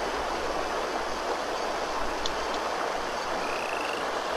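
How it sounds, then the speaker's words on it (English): A pixel-art frog croaks in an indie video game against a loud, steady rushing wash like flowing water, with a couple of brief faint chirps poking through. "What you doing, Mr. Frog?"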